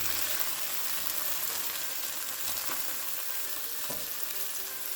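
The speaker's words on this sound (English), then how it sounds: "I'm just going to flip these over just so these pears can absorb the flavor of this apple cider vinegar." Pears sizzling in a pan with apple cider vinegar, a steady loud crackling fry, close up, with faint clinks of stirring and no talk.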